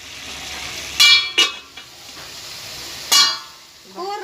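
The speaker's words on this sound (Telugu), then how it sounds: "కర్రీ రెడీ అయిపోతుంది ఆల్మోస్ట్ ఒక ఇంకొక రెండు మూడు నిమిషాలు మూత పెట్టి దగ్గర పండిస్తాం" Salted fish curry simmering in a covered pan on the stove, a soft steady sizzle under faint room noise, broken by a few sharp clinks of a lid or utensil against the pan.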